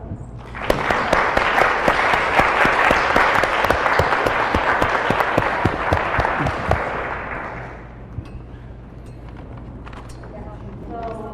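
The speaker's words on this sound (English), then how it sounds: "let's thank our speakers with a big warm applause" A forum audience gives its speakers a big, warm round of applause, dense clapping holding steady for about seven seconds before fading, followed by quieter room noise and a voice speaking near the end.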